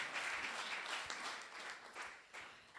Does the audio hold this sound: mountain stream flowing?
no